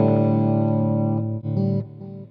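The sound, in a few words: clean electric guitar tone through BluGuitar AMP1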